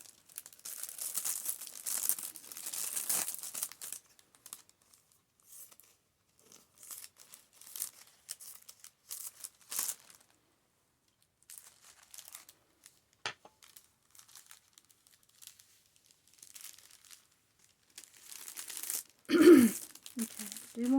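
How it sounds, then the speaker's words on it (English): Scissors snip and trim a cellophane bag wrapped around a handmade holiday ornament, with crisp crinkling and rustling of the plastic in short bursts and pauses, plus one louder crinkle near the end. "So I'm going to trim the bag."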